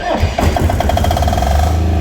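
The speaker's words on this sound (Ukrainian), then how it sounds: "як працює дизельний двигун, дизельний генератор в корпусі Silent." An EnerSol SCDS-8EBA diesel generator running inside a silent enclosure, heard as a steady mid-pitched engine drone with a rhythmic pulsing throb, close and continuous after a brief rough start.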